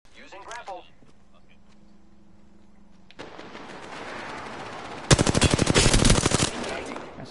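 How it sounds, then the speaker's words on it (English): Rapid automatic gunfire in an Apex Legends match, starting after a burst of game sounds and building into a loud, dense stretch of shots near the end, with a voice speaking early on. "Got some shots on him."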